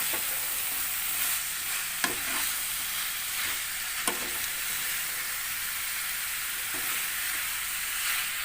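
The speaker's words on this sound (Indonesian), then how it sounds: "kita aduk terus pemirsa sampai menyatu bumbu yang tadi kita tumis dengan wortel dan timun tadi." Spiced vegetables with carrot and cucumber being stirred in a pan while cooking a Nile tilapia pesmol, giving a steady, quiet sizzle with a few faint utensil scrapes against the pan and no voices.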